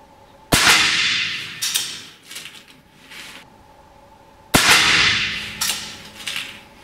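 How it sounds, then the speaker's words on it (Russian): Two rifle gunshots fired at a target from a prone position, each a sharp, loud crack followed by a decaying echo and short clatter, spaced about four seconds apart. "Так, в пятерку стреляю."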